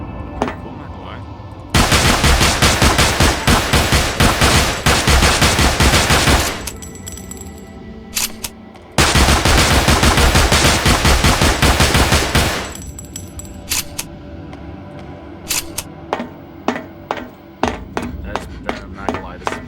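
Nano rounds fire in the Dark Matter video game in two long, loud sustained bursts of rapid automatic gunfire, separated by a pause and followed by scattered single shots and clicks.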